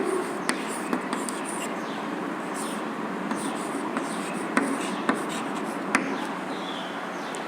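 Pen scratching across paper as letters of the English alphabet are handwritten, a soft continuous scribble close by with a few sharper taps at the ends of strokes.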